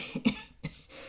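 A person with a lingering cold gives two quick, fairly faint coughs in a quiet room, close to the microphone.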